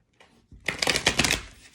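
Tarot cards are shuffled in a quick, crisp riffling burst of rapid paper flutters. A soft rustle comes first, then the main shuffle builds for about a second close by.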